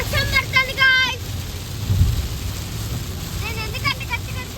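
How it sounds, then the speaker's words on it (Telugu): Rain falls during a road trip from Chennai to Rameshwaram, heard as a steady broadband wash under a road drone, with people talking over it at the start and end. "వర్షం పడుతుంది గైస్."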